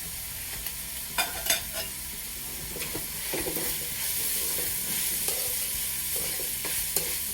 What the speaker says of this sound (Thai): ใส่เห็ดลงไปก่อนครับ เห็ด เห็ดหอมของเรานะ ผัดเห็ดก่อนครับ